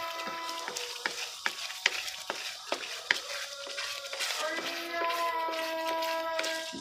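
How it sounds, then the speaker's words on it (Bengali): Hot oil spatters and crackles in a pan during homemade ghee making, with sharp irregular pops over a steady sizzle, fairly close, later settling into a continuous frying hiss. "দেখেন ছিটতেছে উপরে অনেক, আমার উপরে ছিটে চলে আসছে এই মাত্র, আবার উপরে ছিটে চলে আসতেছে তেল তেল"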